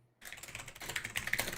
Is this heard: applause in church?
no